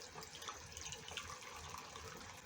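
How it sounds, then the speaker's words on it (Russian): Water pours over 40 grams of gelatin in a kitchen, a faint, steady running trickle with no talking. "Заливаю водой,"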